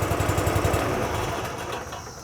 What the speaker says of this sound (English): on this unit, it's showing that the unit is idling at about 1200 RPM